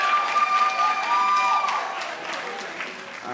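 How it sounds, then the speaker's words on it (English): Applause and scattered cheers swell from a standing audience at a master's hooding ceremony, dense clapping filling the room before easing off slightly toward the end, with a few whoops over the top. "Stand up and give them a round of applause"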